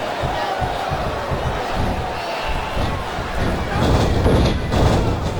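Arena crowd noise from a wrestling match in the video game WWE SVR 2008, a steady loud roar with swells of cheering and occasional thuds throughout.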